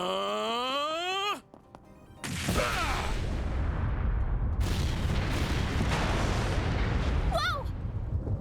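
A kick shatters a talisman in the video game Trails through Daybreak II, a sudden heavy burst that gives way to a long loud rumbling crash. An earlier sweeping tone cuts off before it, and a brief vocal cry comes near the end.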